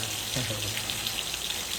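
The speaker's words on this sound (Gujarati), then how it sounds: "મસ્ત મજાનો વરસાદ આવી ગયો છે" Heavy rain falls in Botad village as a dense, even hiss of drops on surfaces, continuous and fairly soft, with a faint low hum underneath.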